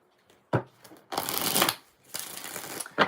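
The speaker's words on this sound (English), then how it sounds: "Five shuffles" A deck of tarot cards is shuffled for a reading in quick riffling bursts, two longer shuffles after a sharp initial snap, close and clear.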